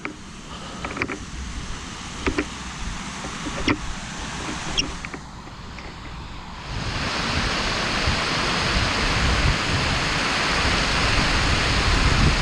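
Brook water flowing over a ford on Edale Moor makes a broad, steady rushing noise that swells and grows louder midway as the listener nears it, preceded by a few faint clicks and knocks.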